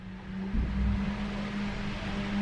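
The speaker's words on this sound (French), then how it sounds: "il y a une voiture dehors, le bruit qu'elle fait" A car outside revving, a faint, muffled engine drone that climbs briefly in pitch, heard from indoors under a steady room hum.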